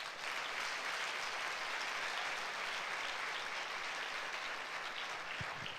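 Church congregation applauding during a Sunday service, a steady wash of clapping that stays fairly faint and even from start to finish, with no pauses.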